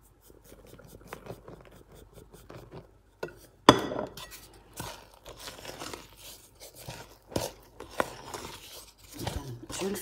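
Crêpe batter being mixed in a bowl makes irregular scraping and clinking sounds with intermittent sharp knocks, close and moderately loud over about ten seconds.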